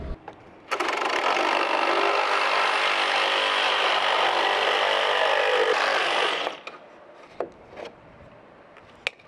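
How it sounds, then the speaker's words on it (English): Sawzall reciprocating saw cutting through a double wooden top plate while framing a beam pocket, one loud, steady buzzing run of about six seconds that then stops, followed by a few faint knocks. "I won't be able to make this cut with a normal circular, so I'll probably have to use a Sawzall"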